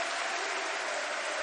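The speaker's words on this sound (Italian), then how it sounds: "prova adesso con l'applauso il pubblico forlivese a schierarsi al fianco dei giocatori sul parquet" A home basketball crowd in Forlì applauds the Fulgor Forlì players on the parquet, a brief, even burst of many hands clapping with no voices.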